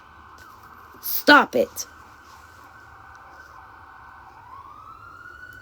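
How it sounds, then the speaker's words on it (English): An ambulance siren passing outside a house's front porch, a steady wailing tone running through with a rising sweep at the end, briefly under a nearby voice. "Oh, ambulance."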